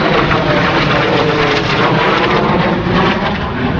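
A fixed-wing airplane passes overhead along a walking trail in the Scottish Highlands, a loud continuous engine roar that fills the whole stretch without letting up, with no talking over it.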